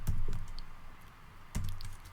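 A few sharp computer keyboard keystrokes come in two small bursts about a second and a half apart, close and fairly quiet, while someone codes a Rust roguelike.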